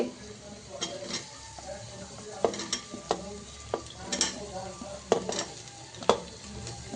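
Onions fry in a pan over low heat for a restaurant-style veg biryani, with a gentle sizzle under repeated scraping and clinking stirs of a spoon against the metal.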